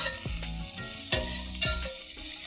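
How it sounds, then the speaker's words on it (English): Yellow onions hitting hot avocado oil in a pan, a crackling sizzle broken by several sharp scraping and clattering strokes of a utensil, close and clear with no speech. "Then to that, we'll add our yellow onions."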